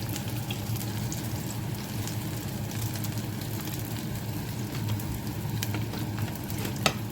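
Garlic, onion and green chili fry together in a pan for a Jaffna-style beans milk curry, giving a steady, close crackling sizzle with faint stirring throughout.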